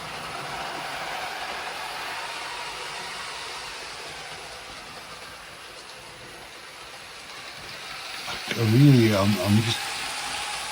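A Hornby King Class model locomotive runs along its track with a steady, soft mechanical hiss and rumble that swells slightly near the end, accompanied by a brief voiced sound.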